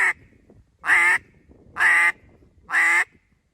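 Four loud, nasal quacks from a duck call, evenly spaced about a second apart, with silence between them.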